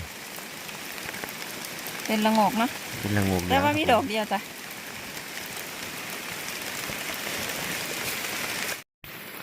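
Rain falls steadily on a forested hillside, a constant close hiss and patter throughout, with someone briefly talking over it.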